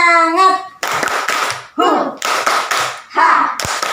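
A group of children claps hands in rhythm in bursts of patterned claps between chanted singing, close and loud.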